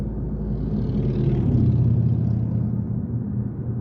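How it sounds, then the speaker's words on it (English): Cars pass on a town road in Azle, Texas, on a Sunday morning, a loud, close rumble that swells as a vehicle goes by and then fades slightly. "Even on a Sunday morning, got a little bit of traffic down here."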